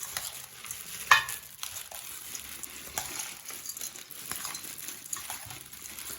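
Food frying in a pan and being stirred with a utensil, a soft sizzle under scattered scraping knocks, one sharp clink early on, fairly close and quiet, no voices.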